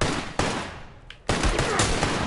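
Gunfire in the video game The Last of Us: two loud, dense bursts of shots, each followed by a short lull, close and harsh with no voices.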